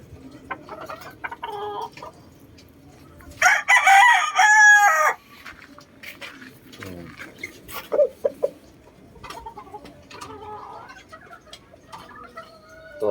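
Sweater cross roosters in a backyard pen: one crows loudly and close partway through, followed by scattered clucks and softer calls, while someone speaks quietly between them.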